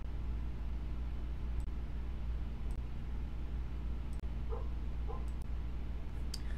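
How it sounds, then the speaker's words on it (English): A pet dog barks a few times indoors, faint and distant, under a steady low hum with no talking. "my dog was barking and driving me crazy"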